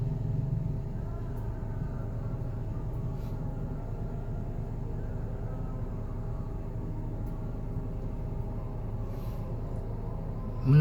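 Steady low traffic rumble on a congested city street in Makassar, with engines idling and crawling past in slow, jammed traffic, continuous and moderately near with faint voices underneath.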